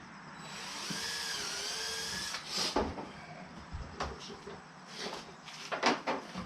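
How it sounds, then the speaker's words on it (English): A power drill whirs in short bursts, drilling holes in Can-Am Ryker front-end trim, stopping and starting several times at close range, with faint clunks between runs. "Just going to drill them out."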